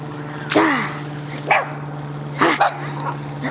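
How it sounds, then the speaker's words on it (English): A dog barks in a flood-hit setting in Tonbridge, giving three sharp barks about a second apart, near and clear over a steady low hum, with short pauses between them. "Yo, doggy."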